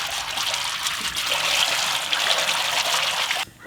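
Pure gingelly oil is poured in a steady, hissing trickle while preparing a large batch of village-style chicken pickle. The stream runs continuously for several seconds, then cuts off abruptly.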